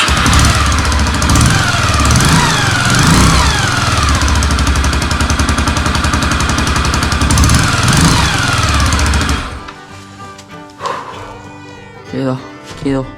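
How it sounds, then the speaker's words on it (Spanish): A motorcycle engine runs loud and close with a rapid, rattling idle and a few revs, then cuts off, leaving quieter scattered noises. "Pero arrancó la moto bien."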